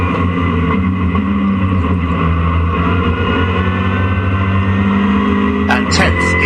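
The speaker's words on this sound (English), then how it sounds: "Chris Payne in the Caterham 7, taking Dan Rogers with the Mazda MX-5 with him" Race cars including a Caterham 7 and a Mazda MX-5 lapping Donington circuit, a loud continuous engine drone with steady revs close by, under a commentator's voice.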